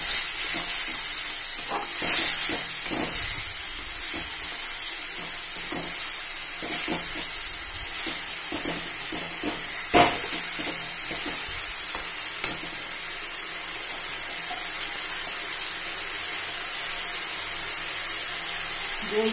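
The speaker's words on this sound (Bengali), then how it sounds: "অল্প করে চিনি দিন, দিয়ে মশলাটা ভালো করে কষিয়ে নেবো।" Spice masala for a jackfruit and prawn curry fries with sugar in a pan, giving a loud, continuous sizzle with stirring scrapes and occasional clinks throughout. No one speaks.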